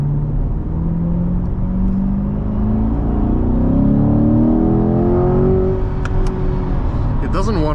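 A 2020 Chevrolet Corvette C8 3LT Z51 in sport mode holds a low gear as its engine drones and climbs steadily in pitch, heard from inside the cabin. Someone talks over the rising engine note throughout.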